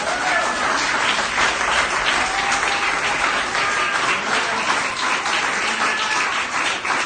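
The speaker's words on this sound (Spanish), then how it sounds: "denle un aplauso." A church congregation breaks into loud, sustained applause during a Sunday service, a dense, steady wash of many hands clapping for several seconds, with voices faintly mixed into the crowd noise.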